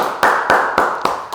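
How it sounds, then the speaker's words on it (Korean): Congregation clapping in praise at a Korean Full Gospel church dawn prayer service, four loud, evenly spaced claps in a steady rhythm. "주님께 감사와 영광의 박수 올려드리겠습니다"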